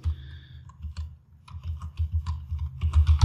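Quick bursts of keystrokes on a computer keyboard while Python code is entered, close and crisp with uneven rhythm and a short pause midway.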